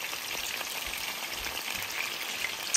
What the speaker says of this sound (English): And now it's in the frying pan.